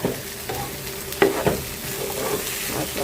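Kebabs frying in a pan for an order, a soft steady sizzle close by with a couple of sharper pops or utensil taps around the middle, no voices.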